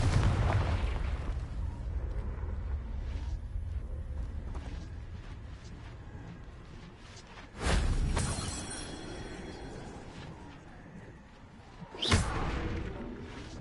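Confringo spell blasts in Hogwarts Legacy: two sharp booming explosions several seconds apart over a low rumbling game ambience, each burst loud and quickly fading.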